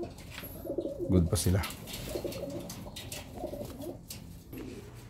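Racing pigeon breeders cooing in their loft, several soft, throaty coos repeating close by, with someone speaking briefly among them.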